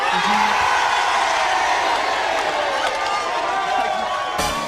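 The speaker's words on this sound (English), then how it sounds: "Can we have 500 people cheering the news, please?" A big crowd on a breakfast TV show cheers and whoops loudly and continuously, a dense roar of many voices that holds steady before cutting off abruptly at the end.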